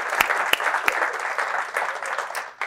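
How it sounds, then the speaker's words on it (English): Audience applause at a luxury real estate talk, a dense wash of clapping with a few sharp louder claps, steady and close for a few seconds before tapering. "Can you give her a round of applause?"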